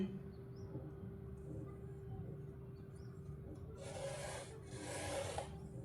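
A straight line is marked across paithani blouse fabric, cut for a size 40 princess-cut blouse, running from shoulder to apex; two short, quiet scraping strokes of moderate loudness come late over low steady room hum, with no talk.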